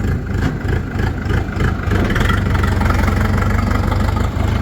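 A DTZ tractor's diesel engine idles and then settles into a steady, even chug at close range, with a brief dip as it shifts into reverse and no talking.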